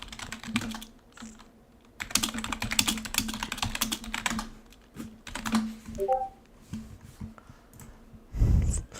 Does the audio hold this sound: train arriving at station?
no